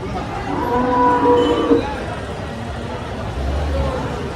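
A cow lets out a low, drawn-out moo close by, amid the steady noise of a busy crowd at an outdoor cattle market in Dhule.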